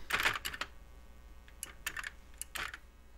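A CoCo3 computer keyboard fitted with a replacement Keyfix3 board is used to type a short program, producing sparse, close key clicks in small irregular bursts with quiet gaps between them.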